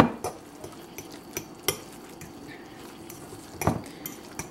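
A spoon stirring a vegan meatless crumble mixture with molasses in a bowl, light irregular clinks and scrapes against the bowl with a few sharper knocks, close and quiet, with no talking.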